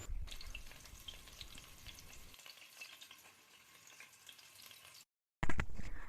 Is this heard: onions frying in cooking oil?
yes